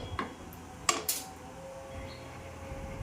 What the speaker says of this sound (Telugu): కొంతసేపు స్టవ్ పైన పెట్టి బాగా కలుపుకోవాలి.